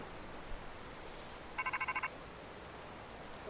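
An incoming phone call in Pokémon Legends: Z-A, heard as a short burst of six quick electronic ringing pulses in a row over a quiet, hissy background.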